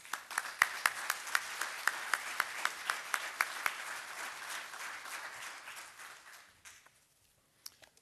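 Conference audience applause welcomes a speaker at an engineering event, with a run of fairly faint, steady claps, some distinct and rhythmic, that thins out and fades to near silence, then a single late clap.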